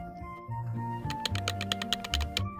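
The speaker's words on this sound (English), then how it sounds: "As for the other buttons, they provide a moderate and satisfying tactile feedback." Buttons on an AYN Thor handheld game console are pressed in a quick series of crisp, close clicks that tap out an uneven rhythm over faint background hiss, with no speech.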